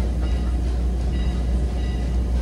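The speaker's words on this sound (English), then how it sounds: "please remain seated for us until the train comes to a stop" A Strasburg Railroad passenger train rolls steadily along the tracks with a loud, continuous rumble and faint rail clatter, heard from on board with no voices.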